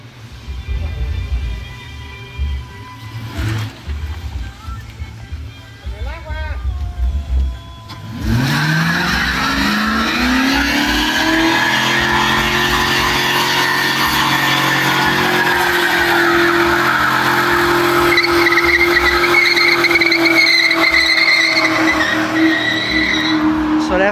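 A 1997 Ford Mustang GT revs its engine in short bursts, then peels out with a long, loud, sustained tire squeal and a roaring engine close by, while people talk and shout.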